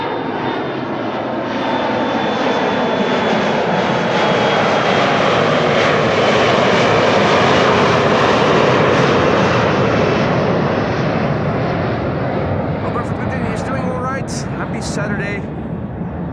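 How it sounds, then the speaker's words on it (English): A KLM passenger jet bound for Cork roars down Schiphol's runway 24 on departure, a loud, steady engine rumble that swells and then slowly fades, with a voice talking over the end. "KLM flight 1123 to Cork in Ireland just now took off"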